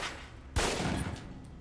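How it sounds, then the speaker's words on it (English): A pistol fires at a target on a shooting range in Alpha Protocol: after a quiet moment, a single sharp, loud shot cracks out and leaves a short decaying tail. "Equip the pistol, then aim down range and take some shots at the target."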